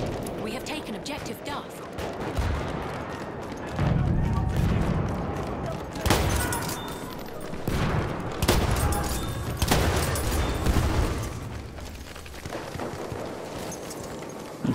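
Gunfire in the Battlefield 1 multiplayer match on Fort de Vaux: repeated bursts of shots and heavy battle noise rise and fall throughout, with loud clusters and a dense background of combat, under occasional voices.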